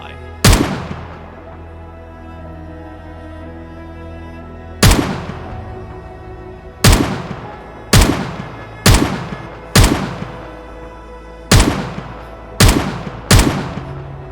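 Gunshots in the video game Project Zomboid: sharp, loud cracks with short echoing tails, one alone, then a pause, then an irregular run of eight more shots closer together over a faint steady background.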